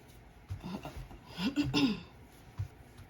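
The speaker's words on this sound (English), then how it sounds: "You have to excuse me for clearing my throat." Someone clears their throat with a couple of rough, gravelly rasps at close range, followed by a short cough-like grunt.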